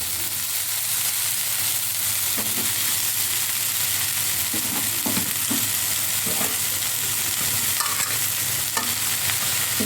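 Chow noodles tossed into a pan with softened tomato, fried for breakfast, give a steady close frying hiss with scattered stirring clatter and scraping throughout, no talk.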